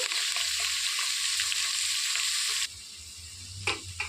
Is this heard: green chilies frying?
yes